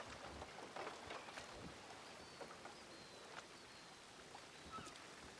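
Heavy rain falls steadily in the Red Dead Redemption 2 game world, a dense, even hiss of drops with scattered louder patters, continuous and close throughout with no voices.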